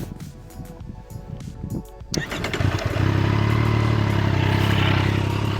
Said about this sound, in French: Et le petit son du moteur, alors, on va se remettre dessus.